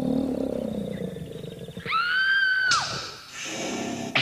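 A dinosaur roar sound effect evoking a Cretaceous world: a loud, close, rumbling growl swells into a long, shrill bellowing cry, then breaks into a rough, harsh tail.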